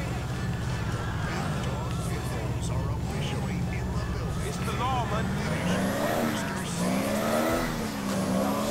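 A Subaru Impreza drives in the video game GTA IV, its engine droning continuously with rising revs and occasional tire squeal, while someone talks over the game sound.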